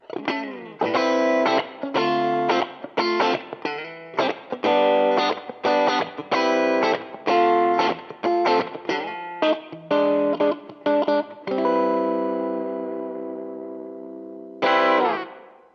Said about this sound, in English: you'll pretty much be set for a general lo-fi guitar tone